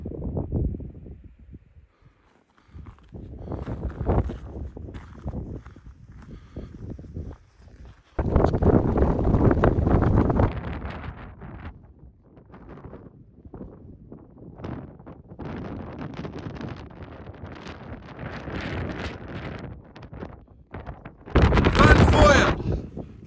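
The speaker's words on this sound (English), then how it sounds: "It's a bit windy." Wind blowing hard on an exposed mountain in the Brecon Beacons, buffeting the microphone in strong roaring gusts that come and go, with footsteps on the trail underneath.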